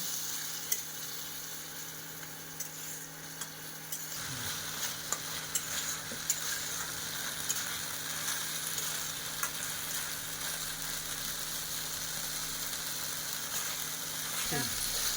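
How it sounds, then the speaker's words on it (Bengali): Spices, with a little coriander leaf, sizzle steadily in a pan for khichuri, a continuous hissing fry with occasional stirring scrapes. "মশলাটা আমার ভাজা হয়ে এসেছে।"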